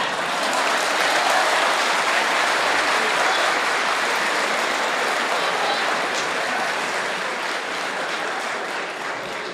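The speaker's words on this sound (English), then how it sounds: "Because of your clapping, he's going to get angry." An audience at a religious debate on whether Jesus is God bursts into loud, sustained clapping that fills the hall steadily, tapering only slightly near the end.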